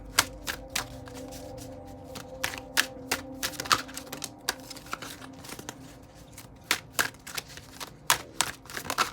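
Tarot cards being shuffled by hand, a long run of crisp, irregular flicking and slapping sounds, some in quick bursts, close and fairly loud over a quiet room, with no voices.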